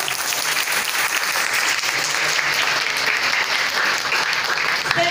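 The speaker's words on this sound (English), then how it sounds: "Can we have a round of applause?" Audience applause fills a formal event honoring Dr. Clarita Carlos, a steady dense wash of clapping that stays loud and even throughout with no speech over it.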